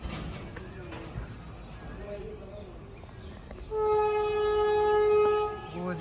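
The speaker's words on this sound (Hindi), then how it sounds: "गाइस वंदे भारत ट्रेन आ रही है और सिग्नल हो गया है।" A Vande Bharat express train arriving at speed past a signal, a rumbling approach that grows louder and is joined by a long steady horn blast, with outdoor ambience and insects around it.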